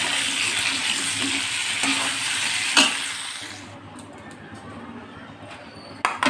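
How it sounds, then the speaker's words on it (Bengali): Potato pieces frying in a pan with turmeric and salt for a Bengali prawn and potato curry, a steady close sizzle that thins after a few seconds, with occasional clinks of a utensil against the pan. "আমি এই আলুটা ভালো করে ভেজে নেব।"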